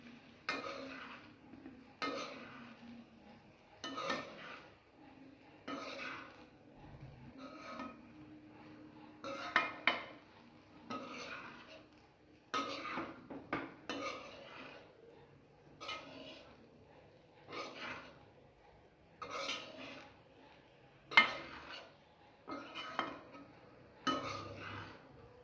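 Spatula scraping and clinking against a pan while chicken fried rice is tossed and mixed, repeated bursts of metallic stirring with short gaps, fairly quiet and close.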